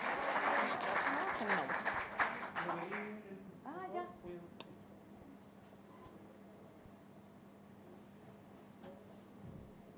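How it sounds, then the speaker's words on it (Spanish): Applause for a speaker at a university education research seminar, a short burst of clapping from the audience that fades after a few seconds into room hum, with voices heard over it. "Un fuerte aplauso para Karen"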